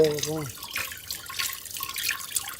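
More water poured over curdled milk while rinsing homemade paneer in a village, a soft trickling splash following a brief spoken word at the start.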